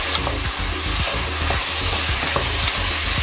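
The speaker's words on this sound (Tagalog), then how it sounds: "Gigisa muna natin ng maigi itong ating mga sangkap dito" Glutinous rice and aromatics sautéing in a pan for Filipino arroz caldo, a steady loud sizzle with rhythmic scraping stirs of a spoon against the pan, no voices.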